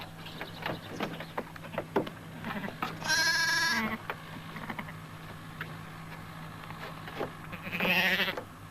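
A ewe and her newborn lamb bleat inside a lambing pen on a sheep farm: two loud, wavering bleats, one in the middle and one near the end, separated by quieter scuffling and faint background noise.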